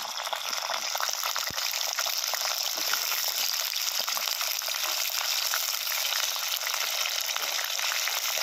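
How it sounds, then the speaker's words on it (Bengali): Flat beans hit hot oil seasoned with nigella seeds, setting off a loud, dense, steady sizzle that hisses close and unbroken throughout, with no voices. "তেলটা গরম হয়ে গেছে, কালো জিরে ফোড়ন দিয়েছি, এবার সিমটা দেবো"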